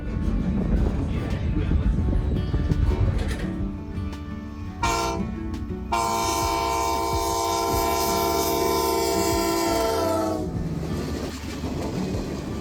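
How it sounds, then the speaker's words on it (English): A train rumbles steadily along the tracks in East Florida, heard from an open-air passenger car, with a loud, sustained horn blast partway through before the clatter carries on. "our train makes good time as it hustles along to our destination"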